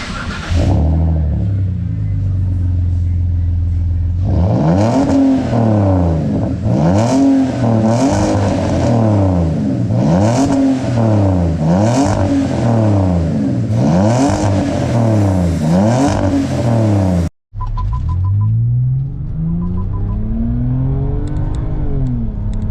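BMW E60 fitted with a Euro Arts exhaust revs hard and close, a loud rising and falling rumble repeated over and over, then drops away briefly before one more rev, with no talking.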